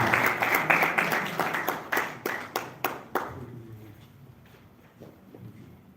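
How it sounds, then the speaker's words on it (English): A small audience gives a round of applause for a professor at an open house event in Abuja, sparse distinct claps in a brisk rhythm that thin out and stop after about three seconds, leaving quiet room tone. "Please kindly give a round of applause for"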